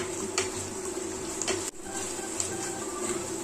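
Chopped onions stirred and sautéing in a pan for pepper chicken, a steady soft sizzle with faint clinks and scrapes of stirring, one brief dip midway, no talk.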